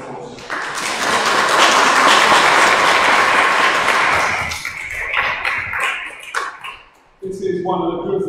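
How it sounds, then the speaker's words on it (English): A church congregation applauds during a Sunday Eucharist, loud dense clapping that swells for several seconds then thins into scattered claps and shuffling, followed by a voice speaking. "Another round of applause."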